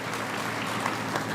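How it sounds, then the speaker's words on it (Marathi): Audience at a grand public felicitation ceremony in Dabhadi clapping together, a dense steady burst of applause held loud throughout. "त्यांच्यासाठी आपण टाळ्या वाजवा"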